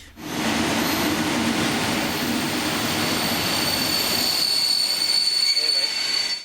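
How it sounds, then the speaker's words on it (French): Intercity train pulling into a station by Lake Balaton, a loud steady rumble of wheels on rails with a high sustained squeal of brakes, close and continuous for several seconds before easing off. "Notre train pour Fongyod rentre en gare. C'est un intercité."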